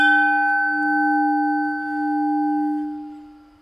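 Ringing from a solid carbon dioxide cylinder bell, already sounding after the strike, holds a steady clang-like tone for several seconds, then gradually dies away with nothing else heard.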